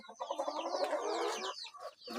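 A high-quality rooster clucks close by in a run of quick, throaty calls with a brief pause and a final cluck, with no one speaking.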